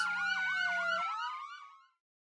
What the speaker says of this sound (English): Soon enough, police sirens start wailing outside the house.